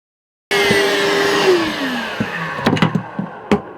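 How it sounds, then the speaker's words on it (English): A vacuum cleaner switches on with a loud, steady whine and roar that holds throughout, with a few knocks and bumps over the motor noise. "turn on that vacuum, please"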